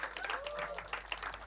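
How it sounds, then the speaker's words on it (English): Polite audience applause at a live indie music gig, light scattered clapping with a few voices mixed in, fairly quiet and brief. "yeah, polite applause"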